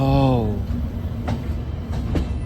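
A train on the Brahmapur to Goa route creeps along slowly on a cold morning, heard from on board as a low, steady rumble with a few faint clacks after a short tone at the start.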